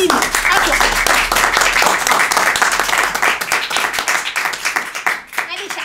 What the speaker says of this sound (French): Et bah franchement, j'ai envie d'applaudir.